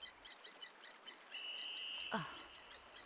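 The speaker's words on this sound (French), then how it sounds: "Qu'est-ce que c'est que ce bruit? C'est un oiseau, c'est rien." A bird chirps in the One Piece video game along a paved path toward Upper Yard, with soft repeated chirps followed by a longer sustained whistle and a brief swooping sound, fairly faint against quiet game ambience.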